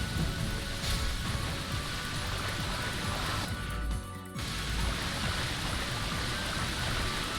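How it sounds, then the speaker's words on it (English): A waterfall in a Castlevania-style game: steady broadband rushing water that fills the whole stretch, briefly dipping near the middle before resuming, with no voices. "There's a waterfall there."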